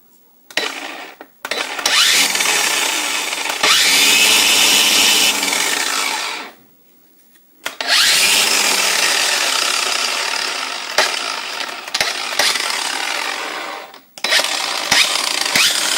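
Craftsman V20 4.5 inch cordless brushed angle grinder runs loudly in long sustained bursts with a harsh rasping grind, stopping briefly between runs and spinning up again.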